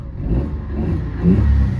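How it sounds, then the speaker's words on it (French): Car engine struggling under hard acceleration with a P0171 lean fault, a low uneven rumble that surges and sags in a couple of hesitant pushes, close and fairly loud with no talk. "Dès que j'appuie à fond sur la pédale d'accélérateur, ça ne répond pas. Il y a des bruits dans le moteur"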